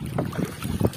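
Strong wind buffets a small fishing boat at sea off Mindoro before dawn, a steady rough rush with gusty low thumps of wind against the microphone, loud and continuous with no talk.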